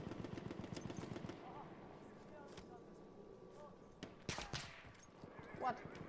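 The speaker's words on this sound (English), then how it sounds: "Am I getting sniped at? I'm getting sniped at." Gunfire from sniper rifles crackles in Battlefield 1, a few sharp shots scattered at moderate distance and faint amid background battle noise, with someone talking over it.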